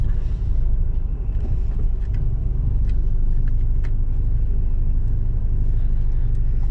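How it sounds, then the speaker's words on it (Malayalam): Truck engine revving under acceleration while stuck in snow at night on a European road, a loud, steady low rumble that holds throughout with no voices. "വണ്ടി ആക്സിലറേഷൻ കൊടുത്തിട്ട് വണ്ടി നീങ്ങുന്നില്ല"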